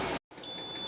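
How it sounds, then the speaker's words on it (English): A kitchen timer goes off while grape jelly jars process in a home canning setup, a steady high-pitched electronic beep tone sounding near and alone after a brief silence. "The timer is going off for the grape jelly."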